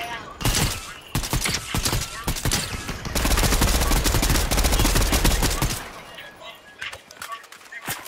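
Rapid bursts of gunfire in the video game Fortnite, dense volleys and single cracks firing near and loud over several seconds, with voices talking between shots.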